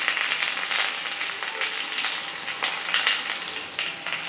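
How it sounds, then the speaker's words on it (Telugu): Mixed dal ponganalu topped with sesame seeds fry in a pan, giving a continuous close crackling sizzle with bursts of popping and spattering that rise and fall throughout. "ఇప్పుడు వీటి మీద పొంగనాలు వేసుకుందాము"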